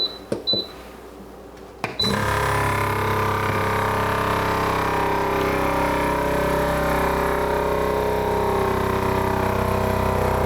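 A chamber vacuum sealer runs its pump to pull the air from the chamber during venison breakfast sausage making, a steady loud motor drone that starts after a couple of soft clicks and continues without a break.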